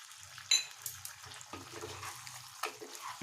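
Chicken pieces being stirred and fried in masala for an Odia chicken korma in a pan over high flame, with quiet sizzling and scattered scraping and clinking as a spoon moves through the pan.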